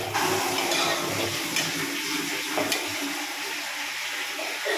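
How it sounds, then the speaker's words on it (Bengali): Spice masala being sautéed in a pan after frying fish, a steady close sizzling hiss with faint stirring, continuous and without talk. "মশলাটা দিয়ে এবার ভালো করে কষিয়ে নেব।"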